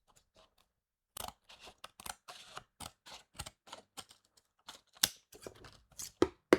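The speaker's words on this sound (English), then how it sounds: "So we have to cut this layer first." Snipping and cutting through a top layer of material makes a string of short, sharp, dry clicks and crunches in irregular bursts, close and quiet, with no talk.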